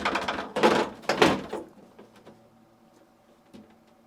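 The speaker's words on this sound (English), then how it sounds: "Insert the lower drawer at an angle, making sure that it sits beneath the support glide rails." A lower freezer drawer on a GE refrigerator is slid in at an angle under the support glide rails, with a few loud plastic scrapes and thunks close by, then softer small clicks.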